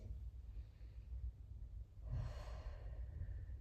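Close, soft breathing during a chest-opening stretching workout, a quiet inhale followed by a longer, fuller exhale, faint and alone.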